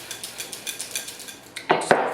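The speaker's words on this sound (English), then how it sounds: "I can just shake the bowl" Sugar is shaken around in a bowl for strawberry granitas: a quick series of light, rhythmic rattling scrapes, followed by two louder knocks of the bowl close by.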